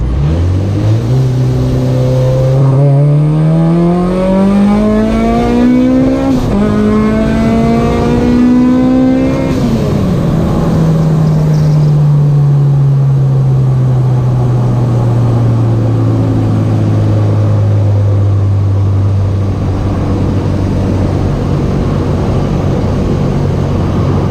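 Honda Civic pulling hard through third and fourth gear, engine note climbing loudly, dropping briefly at each shift, then climbing again before falling away as the revs come down.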